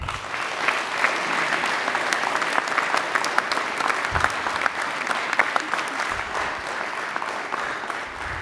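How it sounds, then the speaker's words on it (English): A crowd claps continuously at a graduation ceremony, a dense, even patter of many hands at a steady loud level from start to finish. "give them a good round of applause"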